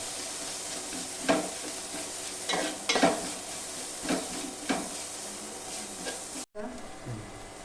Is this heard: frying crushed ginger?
yes